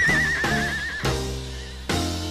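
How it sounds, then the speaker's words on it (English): A horse whinnies with a wavering high cry, followed by a few loud rhythmic musical hits and a second shorter neigh, set within a song. "that sound is the neighing of a horse."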